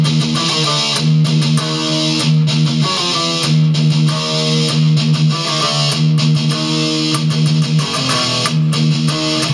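Riff played on electric guitar: heavy distorted power chords and fast down-picked open low sixth-string chugs in a driving repeated pattern, loud and sustained with no talking.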